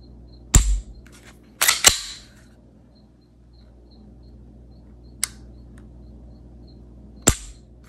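Sharp, dry trigger clicks from a Springfield Echelon 9mm pistol being dry fired: five crisp, isolated snaps, two in quick succession early on, separated by near silence and heard up close.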